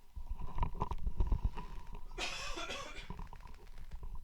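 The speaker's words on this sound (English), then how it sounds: "I need to cough" A single short, harsh cough bursts out midway, preceded by muffled thumps and rustling close to the microphone.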